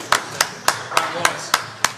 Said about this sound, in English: Another appreciative round of applause from the crowd